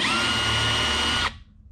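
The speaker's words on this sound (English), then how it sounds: "I'm pre-drilling some holes to mount this" A power drill pre-drills holes to mount a shaker-style kitchen cabinet door, a loud close steady whir that cuts off abruptly near the end, with no voices.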